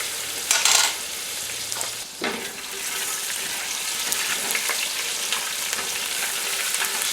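Ginger and garlic sizzle in a pan for butter chicken, with a loud steady frying hiss broken by bursts of stirring and scraping, close up and without talk.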